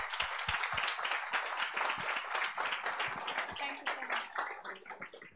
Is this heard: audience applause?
yes